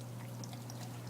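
Water pours steadily into an aquaponics grow bed as it floods before the bell siphon drains it, a continuous close splashing flow with a constant low hum underneath.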